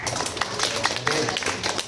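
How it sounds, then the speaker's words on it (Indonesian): An audience at a training session claps together in a quick, uneven patter of hand claps, with a voice talking over it. "Tepuk tangan."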